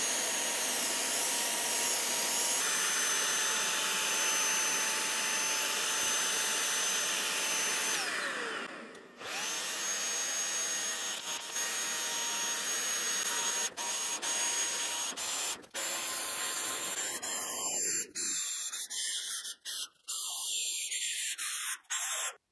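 A Worx WX020 cordless HVLP paint spray gun sprays paint with a loud, steady motor whine and airy hiss close by. The sound is briefly interrupted several times and cuts off near the end, with no voices.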